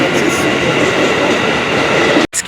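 A KRL commuter train rumbles loudly through Sudirman station in Jakarta with a steady mechanical roar, then cuts off abruptly near the end.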